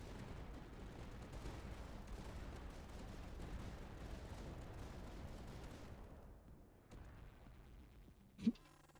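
Howitzers and sanction cannons in the strategy game Tower Dominion fire in a dense, continuous rumble of overlapping booms, then the barrage cuts out, leaving a quieter bed with one sharp interface blip.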